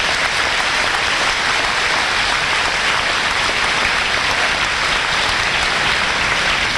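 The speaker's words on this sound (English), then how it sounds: "Please give them a round of applause." Dense, loud applause from a high school graduation audience, a continuous wash of many hands clapping that fills the whole stretch without pause or speech.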